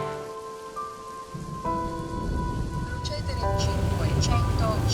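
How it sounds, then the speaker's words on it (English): Rain falling in Tuscany, a steady hiss of drops on surfaces that builds slightly and continues throughout, with faint tonal sounds and background voices mixed in. "It's a little rainy, but that's all right."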